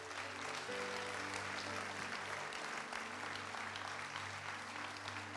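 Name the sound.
congregation applause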